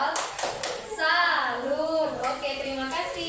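A classroom of children does a 'tepuk salut' clapping cheer: a quick run of sharp claps, then young voices chanting together in rhythm.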